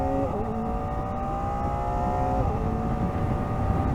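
A Kawasaki Ninja ZX-4RR, a low-displacement four-cylinder sport motorcycle with a quick shifter, accelerating on the road; a loud, close, high-pitched engine whine climbs steadily, dips briefly at a gear change, then keeps rising.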